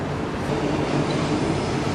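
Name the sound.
train passing in Brisbane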